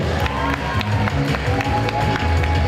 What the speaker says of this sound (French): je pense qu'on peut les applaudir, s'il vous plaît